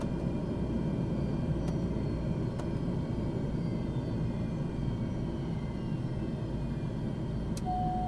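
Beechcraft King Air 350i turboprop engines and propellers wind down at shutdown, a steady loud low rumble and drone with a faint whine, heard from inside with no talking.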